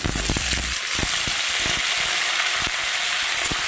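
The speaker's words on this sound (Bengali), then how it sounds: "এবার আলুটাকেও আমি ভেজে নেব" Cut potato fries with garlic in hot oil, a loud, continuous crackling sizzle close up, punctuated by irregular knocks and scrapes of a spatula against the pan, with no speech.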